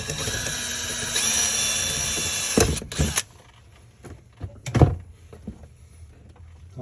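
A power drill with a 1/4-inch bit whines steadily at high pitch for a few seconds, then stops; a couple of short bursts and clunks follow.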